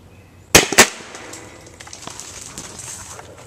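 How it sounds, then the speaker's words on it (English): Sun Project M203 airsoft grenade launcher loaded with a Magpul shell firing two sharp, loud pops in quick succession, followed by faint scattered ticks and a soft hiss. "We have a grenade launcher by us. It's a Sun Project M203."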